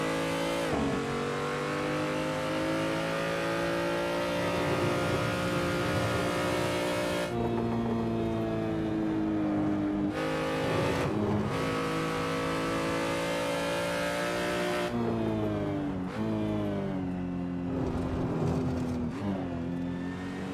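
Close, loud engine note from a BMW M235i Racing on the Ring, rising through the revs, then dipping sharply at several gear shifts across a continuous run; no voices.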